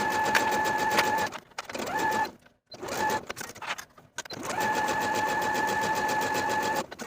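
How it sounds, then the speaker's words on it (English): A sewing machine stitches seams in knit fabric for a raglan tee, whirring in three runs of rapid mechanical chatter separated by brief pauses, loud and close with no talking. "I'm choosing to sew each seam twice, first at 3/8, then again at a 1/4 inch"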